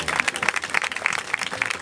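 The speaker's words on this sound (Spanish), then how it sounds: "La despedimos con un fuerte aplauso" Audience clapping at a women's gathering in La Plata, a brisk, steady patter of many hands at moderate volume, continuous through the short burst without voices over it.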